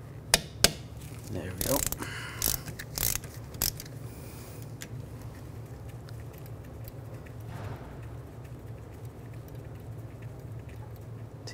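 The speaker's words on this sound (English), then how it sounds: "I'm going to use a 5 millimeter hex socket. Take this screw out." A 5 mm hex socket backs out the ABS wheel speed sensor screw on a 2004-2009 Audi A4 Quattro, giving a few sharp ratcheting clicks and metallic creaks early on, then a low steady hum with brief speech.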